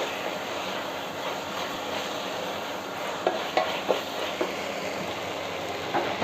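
Tomato with a handful of coriander leaves and mint sautéed in a pan: a steady low sizzle and hiss runs throughout, with a few soft clicks from stirring near the end.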